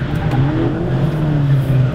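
Škoda car engine pulling hard on a race track, a loud close engine tone with a shifting pitch and hints of tire noise.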